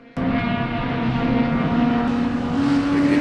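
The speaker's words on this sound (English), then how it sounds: "You know how loud that car is?" Mustang race car fitted with a giant wing, racing at Sebring in an SCCA club race, loud sustained engine drone passing close and steady, with slight pitch rise near the end.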